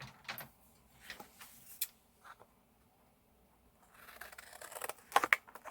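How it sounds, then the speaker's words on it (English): A big pair of scissors cuts through a sheet of art journal paper with scattered snips, rustles and scrapes close by, quiet at first with a pause, then a denser run of crisp cuts at the end. "let me grab a big pair of scissors"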